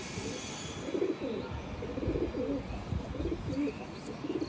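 A racing pigeon coos in soft, low repeated phrases close by, with a faint background hum and no voices.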